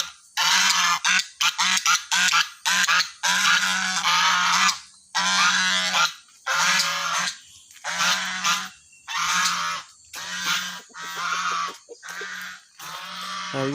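A goose honks loudly and repeatedly at close range, the harsh calls coming in quick bursts with short pauses between them.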